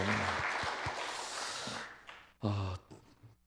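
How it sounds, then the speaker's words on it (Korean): A church congregation at an autumn revival service applauds the choir: a burst of broad, close clapping that dies away after two seconds, followed by a voice speaking. "우리 귀한 찬양 올려드린 우리 성가대에게 또 박수 한번 해드리겠습니다"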